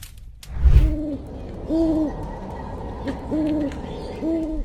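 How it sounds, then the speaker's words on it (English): A massive owl perched on a tree stump gives four clear, low two-note hoots at even intervals. The calls are moderately loud and close, and a brief thump comes just before the first hoot. "a massive owl perched on a tree stump, its wings stretching wide as though guarding something ancient"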